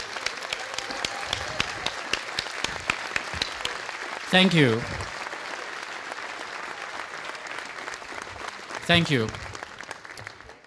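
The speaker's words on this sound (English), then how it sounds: "Let us recognize you where you are and give a big round of applause." Applause at an architectural guild's annual dinner, a sustained crowd clapping that carries steadily through the whole stretch. A voice speaks briefly over it twice.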